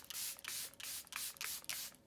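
Several short bursts of hissing from a Charlotte Tilbury Airbrush Flawless makeup setting spray in quick succession, each a soft airy whoosh, close to the microphone with brief pauses between.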